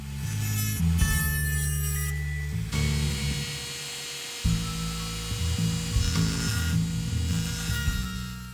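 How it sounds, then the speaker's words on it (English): A fine saw rasps steadily through model railway track laid across a lift gate, cutting between the hinges, with a low hum running underneath and a short pause midway. "we've got to cut it directly between the hinges perfectly"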